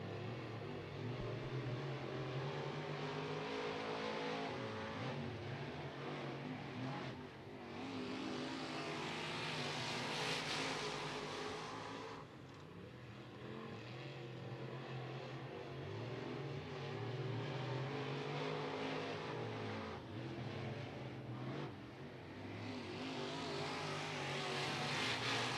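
Local-class race cars in a heat race roar around Beckley Motor Speedway, engines droning in rising and falling sweeps as the pack passes, steady and fairly distant with no talk.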